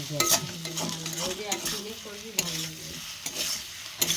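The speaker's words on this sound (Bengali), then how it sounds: "ভালো করে আমি নেড়ে ভালো করে কষিয়ে নিলাম" Potatoes stirred and fried with spice masala for a prawn and potato curry, giving a steady sizzle broken by scraping spoon strokes and a few sharp clinks against the pan, close and fairly quiet with no talking.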